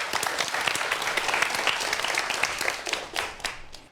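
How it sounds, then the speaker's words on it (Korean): Audience applause at a lecture on forensic science and criminal psychology, a dense, steady clapping from a hall crowd that holds for about four seconds and thins slightly at the end. "박수 부탁드리겠습니다."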